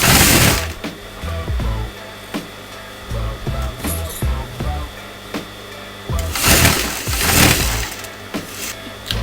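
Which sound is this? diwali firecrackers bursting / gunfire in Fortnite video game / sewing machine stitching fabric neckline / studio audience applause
sewing machine stitching fabric neckline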